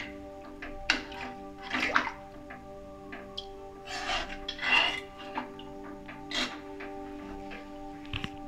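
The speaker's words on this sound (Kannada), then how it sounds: "ಸೊ ನೀರು ಹಾಕಿದ್ದೀನಿ ಇವಾಗ." Water is poured into an egg curry in a pot, giving intermittent splashing and pouring bursts over a steady background hum, moderately quiet, with no speech.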